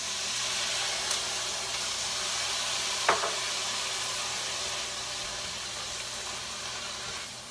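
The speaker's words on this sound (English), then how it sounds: "you can steam them by adding some water to your hot pan." A steady, broad hiss of steam and sizzling as water hits vegetables in a hot pan, with a couple of brief clicks and no talking.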